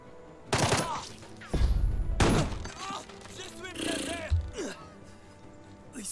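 Gunfire in the tactical game Jagged Alliance 3, with several sharp bursts and impacts scattered among other game sounds, loud and close.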